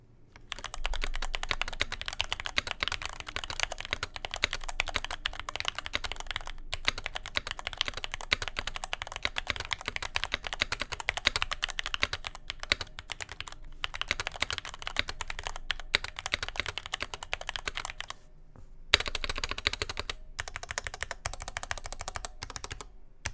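Continuous fast typing on a Gamakay TK75 pre-built mechanical keyboard, a dense, clacky stream of key presses close to the microphone with only a couple of brief pauses.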